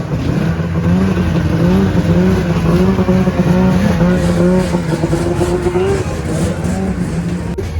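Snowcross race sleds come around the track to complete a lap, their engines droning loudly and continuously in a dense, steady roar with shifting pitch throughout.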